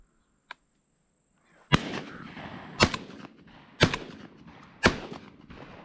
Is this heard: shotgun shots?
yes